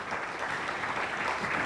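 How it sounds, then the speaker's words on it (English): A presentation audience at a shipyard event claps together in a dense, even wash of applause that holds steady at the same level. "Let's all applaud to the video."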